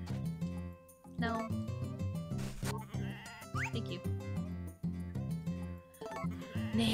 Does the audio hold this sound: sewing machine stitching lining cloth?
no